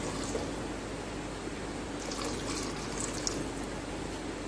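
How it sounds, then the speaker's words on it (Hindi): Water is poured steadily onto beef in a pressure cooker, a continuous close splashing and trickling wash lasting throughout with a brief brighter gush midway, with no talking. "अब इसमें पानी डालूंगी ताकि जो गोश्त है वो अच्छी तरह गल जाए"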